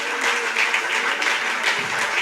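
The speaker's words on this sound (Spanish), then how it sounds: "Denle un aplauso fuerte al Señor" Loud, steady applause from a church congregation during an evangelical service, a dense continuous clatter of many clapping hands filling the whole stretch with no break.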